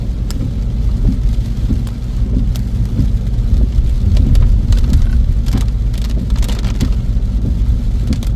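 Heavy rain pours over a BMW on the road, a dense steady wash of drumming drops and tyre rumble with the low drone of the moving car inside the cabin.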